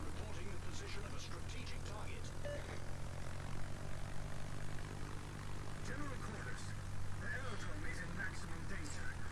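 Propeller aircraft engines drone steadily in a naval warfare video game, a continuous low hum with a commentator talking over it.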